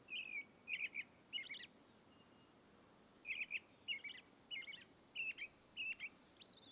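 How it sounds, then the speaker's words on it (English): An American robin call in the Nancy Drew video game comes as short clusters of bright chirps in two phrased bursts with a pause between, moderately loud over a steady ambient hiss. "American robin."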